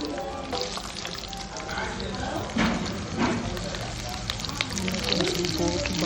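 Drumstick leaves frying in a hot garlic tempering: a dense, loud sizzle close up with occasional stirring scrapes and pops, steady for several seconds.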